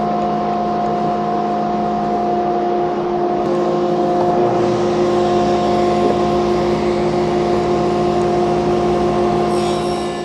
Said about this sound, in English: I just want to make a small scoring cut